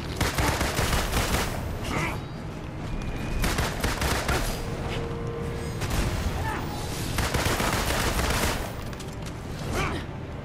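Guns blaze in Marvel's Avengers, dense repeated bursts of rapid gunfire and mechanical clatter running almost nonstop, loud and close, with brief gaps between volleys.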